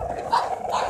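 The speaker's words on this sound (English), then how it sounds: "getting attacked by some dogs here" Dogs barking in an Oxnard neighborhood in the morning, two short yelping barks about half a second apart, fairly close and alone without talk.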